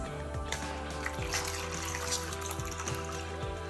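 Crystal growing solution from a National Geographic Mega Crystal Grow Lab kit being poured into a container at home, a steady liquid trickle and splash over a busy background hum, fairly close.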